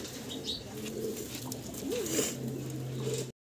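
Pigeons on a farm, breeding pairs kept for eggs and chicks, give soft throaty coos nearby, a few wavering calls against a quiet background over a few seconds.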